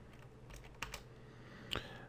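Keys tapped on a computer keyboard while entering a Linux terminal command on a Raspberry Pi, a few sparse, close clicks in two short clusters over a quiet background.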